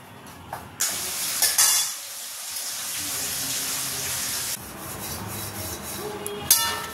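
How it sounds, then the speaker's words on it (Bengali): Asafoetida, dried chili and cumin hit hot oil as a tempering and break into a loud, steady sizzle that holds for several seconds, eases off, then flares again near the end. "এই যে হিং, শুকনো লঙ্কা আর জিরে ফোড়ন দিয়ে করবো।"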